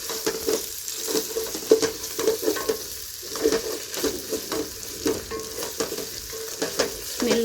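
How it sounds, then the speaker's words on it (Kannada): Ginger garlic paste stirred and frying in a pan for biryani, a steady close sizzle broken by repeated scraping stirs of the spoon, with no talking. "ಸ್ಮೆಲ್ ಹೋಗೋ ತನಕ ನೀಟಾಗಿ ಫ್ರೈ ಮಾಡೋಣ"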